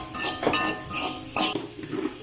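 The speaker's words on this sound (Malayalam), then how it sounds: "നല്ലപോലെ പച്ചമണം മാറുന്നവരെ നമുക്കൊന്ന് ഇളക്കി കൊടുക്കാം" A spoon scrapes and clinks against a pan in a few quick bursts while roasted coconut and spice powder are stirred, close and moderately loud, with no talking.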